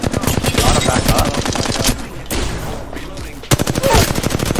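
Rapid automatic gunfire from Apex Legends, a loud near burst of dense repeated shots, a short lull with softer shooting, then another sharp volley at the end.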